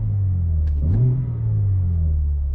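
A 2022 BMW's exhaust with its valves in stock mode gives a short, close rev, a loud low rumble that rises and then settles back to a steady idle.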